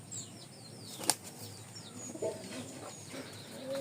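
A pigeon's wings flap in one sharp, close burst, with faint chirping birds and light background noise around it.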